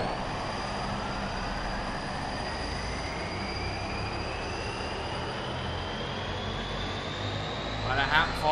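Steady engine roar from an airplane in the driving game BeamNG.drive, a continuous drone with a slowly rising whine, loud and unbroken throughout, swelling slightly near the end.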